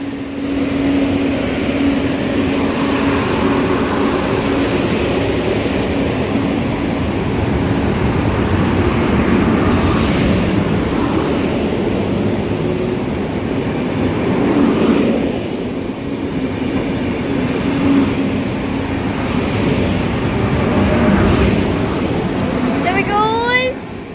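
Passenger train pulling out of Cambrils station bound for Barcelona, a continuous rumbling roll that carries on throughout with a faint squeal near the end, heard from the platform with someone talking over it.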